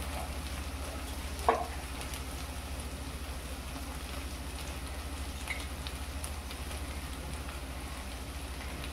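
Turmeric and an onion, garlic and ginger masala fry in oil for a chicken rassa, giving a faint, steady sizzle with one brief clink of a utensil early on.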